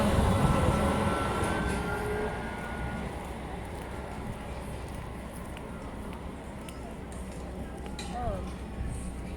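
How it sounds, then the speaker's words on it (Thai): An electric train rolls past in a Turkish town, its loud rumble fading from near to a steady, quieter drone over several seconds, with a brief squeal toward the end. "รถไฟฟ้า"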